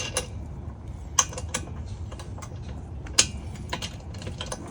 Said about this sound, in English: use the Allen wrench on the top and a wrench on the bottom to hold it and tighten these up.